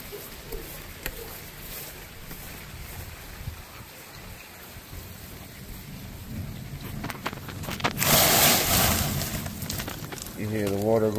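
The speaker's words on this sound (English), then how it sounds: "Rain just let down." Heavy rain hisses steadily, swelling into a loud downpour near the end, with a low rumble underneath, water rushing into a French drain.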